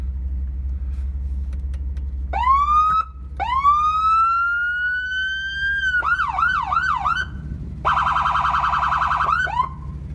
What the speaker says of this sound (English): It has all the multiple things like a fire truck or an ambulance would have, different sounds.